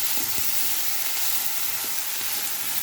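Curry leaves and green chillies sizzle and crackle steadily in hot frying oil for a crab gravy, a close, loud, continuous hiss with a few soft stirring knocks.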